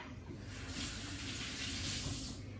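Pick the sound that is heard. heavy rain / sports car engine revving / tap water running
tap water running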